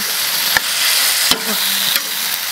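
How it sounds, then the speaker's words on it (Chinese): Vegetables stir-frying in a wok with a steady bright sizzle, broken by three sharp scrapes or clanks of the utensil against the pan, close and without talk. "好，让它炒一下。"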